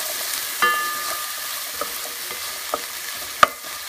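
Garbanzo beans and onions fry quietly in a pan, a soft continuous sizzle broken by a few scraping stirs and clinks of the spoon, close up with no voices.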